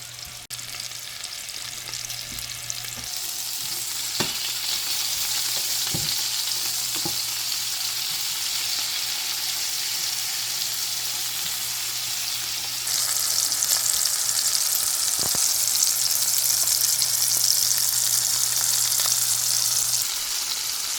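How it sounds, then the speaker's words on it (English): Lamb chops sear in a hot pan with a loud, continuous sizzle and spatter, broken by occasional clinks and taps, the frying growing a little brighter and more intense toward the end. "I'm gonna sear them on both sides for about 3 minutes each time."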